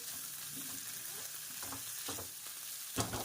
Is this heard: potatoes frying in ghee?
yes